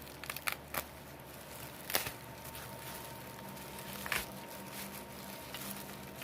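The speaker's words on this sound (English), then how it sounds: "I'm going to take 10 minutes trying to unwrap these 2 bottles." Packaging around two nail polish bottles crinkles and tears in quiet, intermittent bursts, with a few sharper crackles standing out against a low background.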